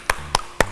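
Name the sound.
congregation clapping hands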